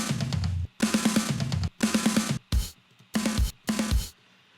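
Rock drum samples: punchy kick, snare and crashing cymbals in quick busy bursts, several short loud phrases cut off by sudden silences, close and dry with no other instruments.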